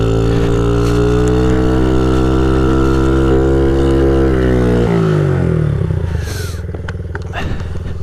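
Honda CRF50 pit bike idling steadily in deep snow, a loud close engine drone with strong harmonics that drops in pitch and roughens near the end as the motor bogs down.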